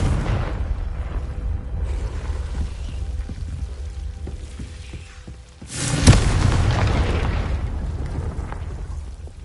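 A Confringo blasting spell erupts in a Harry Potter video game, a sudden loud booming blast at about six seconds that rolls on as a rumbling tail over steady game ambience.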